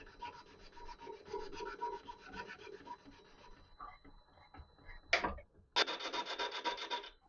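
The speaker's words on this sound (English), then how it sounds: "Adding a generous chamfer to the top side." A metal part is chamfered on a Colchester Student lathe, giving a steady run of raspy, rubbing cutting strokes, a short pause, then a sharp louder burst of scraping near the end.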